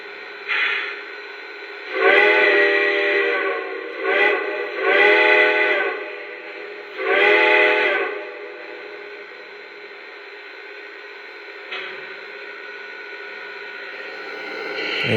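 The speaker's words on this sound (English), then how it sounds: "here's a close-up of that awesome quilling, smoking whistle." A Lionel Legacy Conrail T1 #2101 model steam locomotive sounds its quilling whistle in several rising and falling blasts, loud and close, over a steady background steam hiss, then fades to the hiss alone.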